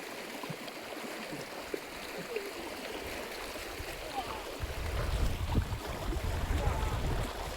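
Stream water running swollen after the previous day's rain, a steady broadband rush that grows louder and fuller in the second half, heard outdoors with no talk.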